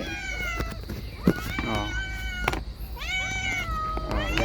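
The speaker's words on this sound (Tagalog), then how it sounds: "gutom na gutom na talaga yung alaga ko" Hungry pet cats meow repeatedly for food at close range, rising and falling cries overlapping one another, while a person talks over them.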